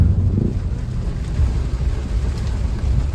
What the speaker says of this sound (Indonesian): Di Lembor tuh hujan lebat banget.